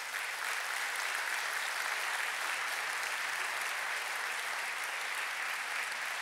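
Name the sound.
audience applause at New Year ceremony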